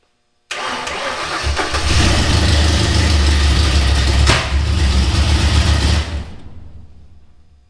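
A Ford 302 V8 in a 1957 Fairlane cranks and catches with a sudden loud start, then settles into a rough, rumbling idle that stays strong for several seconds before dropping away.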